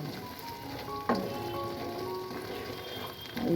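Garlic pickle masala with amla and olives sizzles steadily in a small amount of oil, a close, even frying crackle with a couple of brief stirring clinks.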